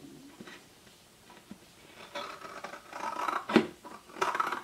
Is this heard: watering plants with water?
no